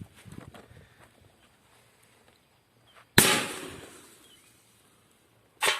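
A MINI DUM BUM P4B firecracker detonates under an old metal pot with one sharp, loud bang that rings off, followed by a second burst at the very end after a quiet stretch of faint rustling.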